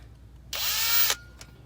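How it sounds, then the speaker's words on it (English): A power drill drilling out a broken bolt in a vintage MCI bus wheel hub whirs at high speed for about half a second, close and loud, then stops, followed by a brief faint tick. "Getting ready to drill out this broken bolt in here."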